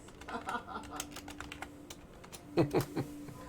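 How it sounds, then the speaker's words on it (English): Keyboard typing coming through voice chat in a quick burst of clicks that ends in a louder cluster of key strikes, with faint speech underneath. "I'm hearing your keyboard voice."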